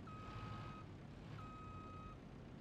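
Forklift reversing alarm in a forklift simulator game: two long steady electronic beep tones, each close to a second long with a short gap between them, over a constant low engine rumble.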